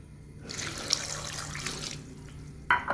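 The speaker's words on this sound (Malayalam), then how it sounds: "വേവാൻ ആവശ്യമായ വെള്ളം ഒഴിച്ച് കൊടുക്കുക" Water pours into a pot of sambar with potatoes and salt, a close splashing gush lasting over a second, then a short splash near the end in a quiet kitchen.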